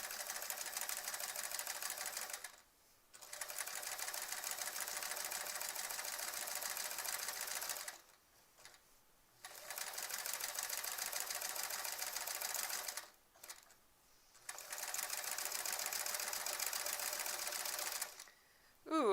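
A sewing machine stitching through a quilt with appliqué, running in long steady whirring bursts of several seconds each, separated by short pauses, close and even, with no talking.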